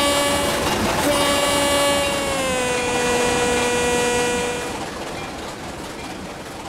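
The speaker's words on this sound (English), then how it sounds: "the A-Class had a Leslie air horn because the sound cut through fog better" A loud, deep Leslie air horn on a Milwaukee Road Hiawatha A-Class steam locomotive sounds in a long sustained blast that shifts slightly in pitch, then fades over the rumble of the passing locomotive.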